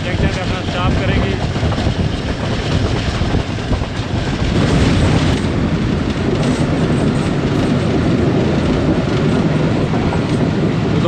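The 15 Up Karachi Express, pulled by a Blue Tiger AGE30 locomotive, runs at speed between Bahawalpur and Lahore: a steady, loud rumble with clickety-clack from the wheels, heard from aboard with a voice talking over it.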